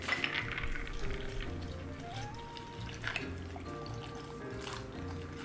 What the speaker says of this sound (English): Pour that into our new tiki glass.